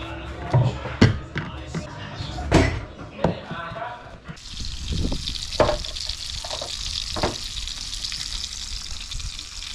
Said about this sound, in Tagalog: Prito ko muna